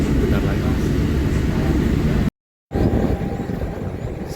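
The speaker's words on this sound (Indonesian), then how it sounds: "Saat ini kereta api Pangandaran telah tiba di stasiun Cipendei." The Pangandaran passenger train arriving at Cipendei station: a loud, steady rumble of rolling stock heard from on board, with a brief cut of silence midway before the noise resumes slightly quieter.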